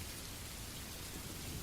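Rain falls steadily and softly, a continuous even hiss of drops with no breaks, faint and distant in a calm setting.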